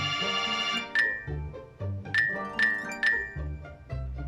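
A bright electronic ringing tone chimes several times in short bursts, fairly close, over low background clatter.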